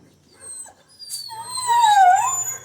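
A dog whimpers and lets out a rising, wavering howl in response to other dogs barking, starting with soft whines and swelling into a clear, loud howl near the end.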